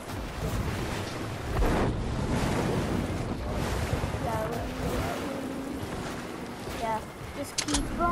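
Swimming through water in the Fortnite video game brings a constant wash of waves and wind-like water noise, loud and steady throughout, with a few small in-game chirps near the end and players talking over it.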